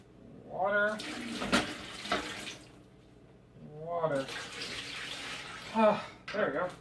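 Water poured into a roux in a hot pan sizzles and splashes in bursts, with a voice speaking over and between the pours.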